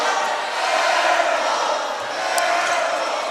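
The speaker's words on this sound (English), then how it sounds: "Very, very robust crowd tonight." Steady, loud crowd noise in a gym during a boys' basketball game, a broad roar of voices and chatter with faint squeaks and thuds beneath it.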